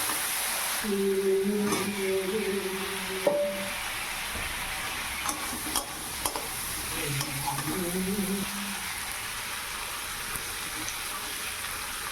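Tomatoes added to spices frying in a pan for a potato curry, a continuous close sizzle with scraping stirring strokes, and a voice speaking softly over it at times.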